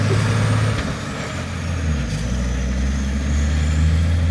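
An ESARCO 8x8 truck's engine drones steadily while driving, a loud, close, low rumble that holds throughout with slight rises and dips in revs.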